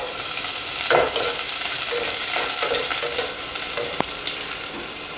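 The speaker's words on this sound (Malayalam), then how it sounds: "കുറച്ച് കടുകിടാം, ഒരു 2 കറിവേപ്പില, ഒരു വറ്റൽമുളക് ഒന്ന് മുറിച്ചിട്ട് കൊടുക്കാം" Mustard seeds, curry leaves, dried red chili and sliced shallots fry in hot oil with a loud, steady sizzle and crackle, broken by a few sharp pops as the pan is stirred close up.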